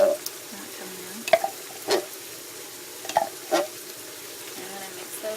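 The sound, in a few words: stirring tomatoes into frying onions in a pan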